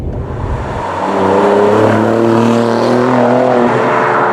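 An Alfa Romeo Giulia Quadrifoglio accelerates hard in race mode, its engine note climbing loudly and steadily from inside the car, with a throaty roar building after a quick shift.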